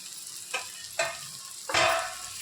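Soybean bhurji mixture stirred in a pan, three distinct scraping strokes spaced about half a second apart over a soft sizzle, the last one longer and louder.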